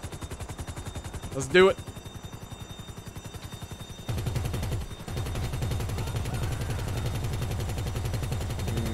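A mounted gun in GTA Online fires as a rapid, even stream of shots, quieter at first and then louder and heavier after a few seconds, with a brief spoken line in between.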